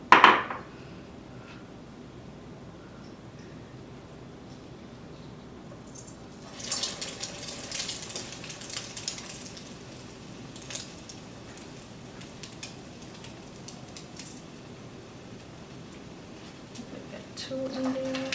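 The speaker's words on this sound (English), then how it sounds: "Already have my oil heating up here, so I'm gonna go ahead and put my first egg ball in." A cassava egg ball drops into hot oil, setting off a steady crackling sizzle that swells after a few seconds and carries on close by, with some handling noise at the start.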